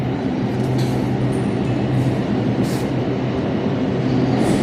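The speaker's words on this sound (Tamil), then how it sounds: "சென்னை கடற்கரைக்கு செல்லுகின்ற மின்சார ரயில் வந்துடுச்சு" A nine-car MRTS electric suburban train bound for Chennai Beach pulls in at a Chennai station, with a loud, steady, close rumble of wheels and motors running unbroken throughout.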